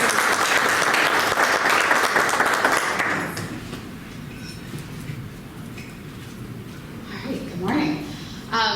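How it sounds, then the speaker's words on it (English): An audience claps loudly for about three seconds, then the applause dies away into quieter room sound and scattered voices. "So one more round of applause for that."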